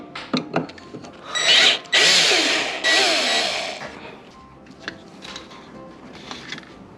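A power drill backs a screw out of the rear panel of an LG TwinWash drum washing machine, with loud whirring bursts of several seconds separated by quieter handling noises and short clicks.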